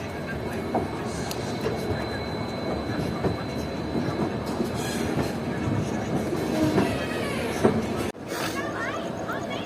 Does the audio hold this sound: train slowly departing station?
yes